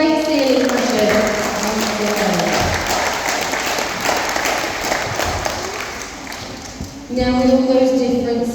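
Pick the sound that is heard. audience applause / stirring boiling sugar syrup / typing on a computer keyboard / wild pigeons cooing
audience applause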